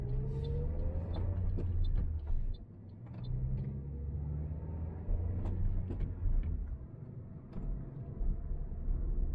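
A car drives through a quiet street on the Gold Coast during a driving test route near the Southport test centre, its steady low engine and road rumble continuous and close, with a brief tonal whine early on and no talk.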